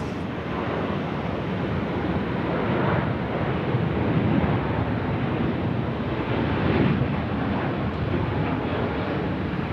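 Airliner taking off at Sydney Airport at night, a steady, broad roar of jet engines heard from a distance, with wind buffeting the microphone throughout and no voices.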